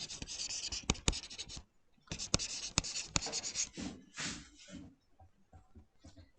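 A pen writes accounting entries by hand on paper, close and quiet, scratching in quick strokes and bursts with sharp taps between them and short pauses.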